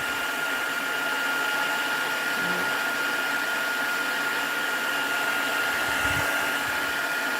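A heat tool blows steadily to melt embossing powder on a Christmas card, a continuous close whirring hiss with a faint high whine, no talking.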